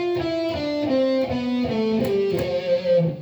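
Guitar picking a descending F Lydian scale, clean single notes one after another at an even, moderate pace, fairly close and alone.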